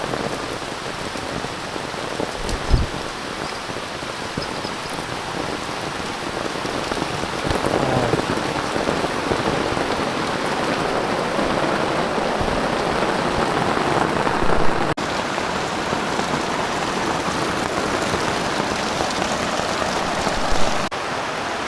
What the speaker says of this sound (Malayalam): നല്ല കൂടുതലും മഴ